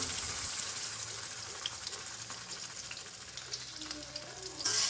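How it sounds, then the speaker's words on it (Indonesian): Spice paste being poured into hot frying oil with bay leaves and lemongrass gives a steady, close, dense sizzle that holds throughout, with a brief louder burst near the end and no talking. "Panaskan minyak goreng, masukkan daun salam dan serai, kemudian tuang bumbunya"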